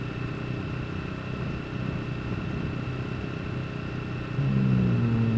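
A quad engine idles in the SCUM video game, a steady mid-pitched rumble that jumps to a louder, higher drone near the end.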